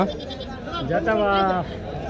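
Goats at a cheap livestock market let out a drawn, wavering bleat close by, rising and falling over about a second amid background market chatter.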